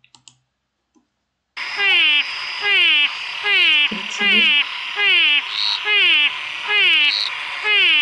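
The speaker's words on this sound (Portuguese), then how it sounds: "ela é chamada de rã chorona e é por causa do canto dela." Repeated wailing calls of the crying frog Physalaemus cuvieri, a common anuran in Bahia, come one after another in a steady rhythm. The close, loud calls are preceded by a few faint clicks and a short stretch of silence.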